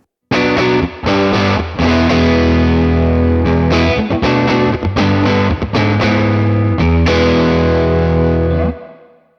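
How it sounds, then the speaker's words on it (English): Distorted guitar chords played through a Morgan Amps Suite amplifier with the reverb high-pass filter set halfway, so the tail carries less low end. Loud strummed chords ring out alone in a steady sequence and decay into a fading reverb tail. "Let's bring this halfway, and we'll have a less low-end heavy reverb."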